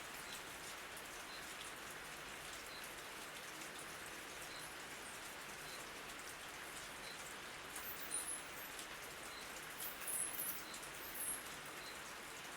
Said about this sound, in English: I will continue with Jungle Rain.